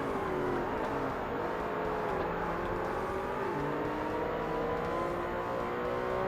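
A Honda NSX race car engine in the Forza Motorsport video game drones loud and sustained, its pitch sliding as the car brakes and accelerates on an endurance race track, with no talk.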